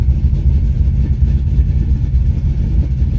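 Steady low rumbling idle of a 1986 Chevrolet C10 truck engine in need of a tune-up, close and continuous with a slightly uneven pulse and no talking.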